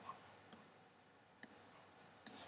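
Calculator keys are pressed in three or four sharp, isolated clicks spaced about a second apart, close but quiet against a faint background hiss.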